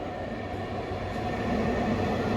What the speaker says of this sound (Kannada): ಈಗ ಬರ್ತಾ ರಾಜಾರಾಣಿ ಇದು ಮೈಸೂರಿಂದ ಬರ್ತಾ ಇದೆ